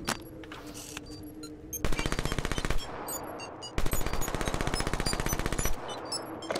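Two long bursts of rapid automatic gunfire from a first-person shooter in a search-and-destroy match, loud and close, each rattling for about two seconds with a short gap between them.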